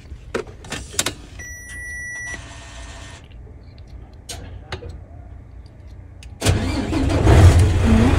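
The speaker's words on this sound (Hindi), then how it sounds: "गाड़ी स्टार्ट हो गई है" A car engine turns over and catches near the end, settling into a loud close idle after a stretch of clicks and quiet cabin sounds, in hot Saudi weather.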